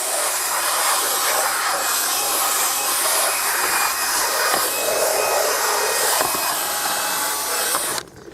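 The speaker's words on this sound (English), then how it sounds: "That's just the drill making that horrible noise." A hammer drill runs continuously during rubber mat cleaning, a loud, harsh, steady whine and hiss that holds for about eight seconds before cutting off abruptly.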